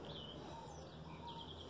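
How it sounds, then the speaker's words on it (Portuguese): Small birds chirp outdoors in a town centre in Muriaé, Minas Gerais, faint thin calls repeating twice over a steady background hum. "Olha os passarinhos"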